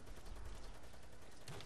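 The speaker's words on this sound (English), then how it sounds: "What's that? The minigun." A minigun in Call of Duty Black Ops 3 Dead Ops Arcade fires in a dense, continuous roar of rapid shots, loud and close, with no pause across the short burst.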